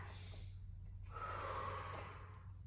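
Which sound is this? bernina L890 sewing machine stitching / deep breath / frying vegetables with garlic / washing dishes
deep breath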